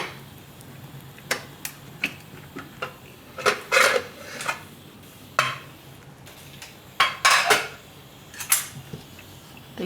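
A pressure cooker holding boiled lentils and soya is opened in a home kitchen, with scattered metallic clinks, lid clatter and pot knocks, some brief rattling bursts, fairly quiet against a faint background hum.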